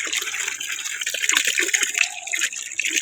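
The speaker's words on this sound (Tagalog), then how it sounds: "Kusog ang tubig, oh." Strong water gushing steadily into a container from a roadside water source, a continuous loud rushing flow throughout with no talking.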